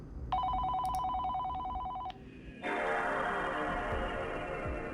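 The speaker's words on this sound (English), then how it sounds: "The phone rings." A telephone rings in a horror video game, an electronic trilling ring lasting under two seconds, followed after a short pause by a steadier buzzing electronic tone, near and clear with no talking.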